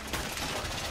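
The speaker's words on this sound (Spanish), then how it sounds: "Cuidadito con esos tiros, que no me están gustando nada." Gunfire in the tactical shooter Rainbow Six Siege, a short dense burst of rapid shots, close and loud, filling the whole brief moment with no voices.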